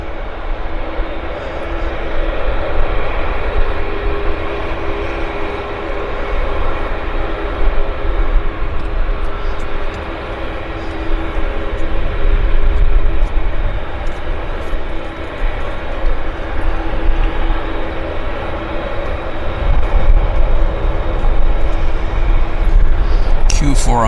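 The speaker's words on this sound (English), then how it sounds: "The 777 is rolling for Toronto." A Boeing 777 jet taking off for Toronto gives a loud, steady roar of engines that builds gradually through the whole stretch. A voice talks over it at times.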